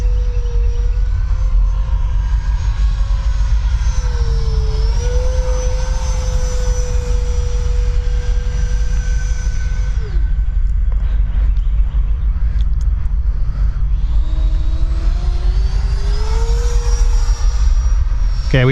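A Freewing F/A-18C 90mm electric ducted-fan RC jet flies overhead, its high whine sweeping up and down in pitch through maneuvers, dipping briefly before climbing back, loud and continuous with no talking.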